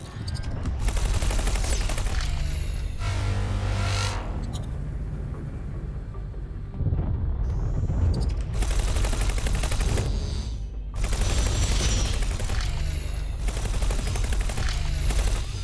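Spaceship guns firing in bursts in the space game X4 Foundations, long loud rapid volleys separated by short quieter pauses.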